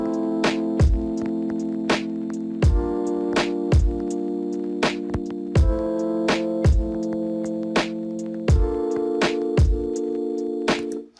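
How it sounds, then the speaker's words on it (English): Lofi hip hop piano chords sustain and change in a steady progression over a slow, evenly spaced drum beat, clear and close with no voices. "so let's start with the piano and with the chords of the piano"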